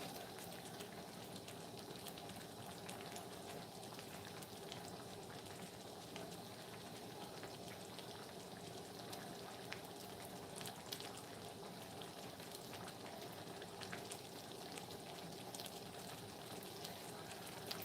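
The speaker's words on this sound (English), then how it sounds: "It is really starting to boil, and that's what we need." A pot of homemade food on the stove coming up to a boil after the heat is turned up, giving a steady, low bubbling and hissing texture that runs evenly throughout with no talking.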